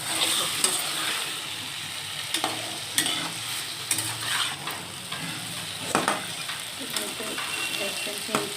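Spices including ground coriander being stirred in a hot frying pan, a steady sizzle broken by repeated scraping clicks of a utensil against the pan at irregular intervals.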